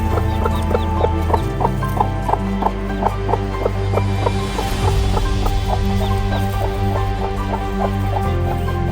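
Chickens and chicks in a pen on an outback station give steady rhythmic clucking and soft peeping, close and continuous against a wind-like background rumble.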